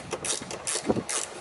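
A ratchet loosens 10 mm bolts on a BMW X5M trailer hitch, quick repeated clicking bursts in close succession, near and fairly loud.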